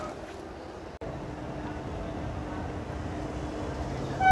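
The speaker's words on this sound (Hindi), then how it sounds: "अपनी Jalandhar city Nakodar DEMU Jalandhar city से डिपार्चर लेती हुई" Inside a DEMU train, number 06974, departing Jalandhar City for Nakodar, a low, steady rumble of running wheels and motors fills the carriage, fairly quiet and continuous with a brief dip near the start.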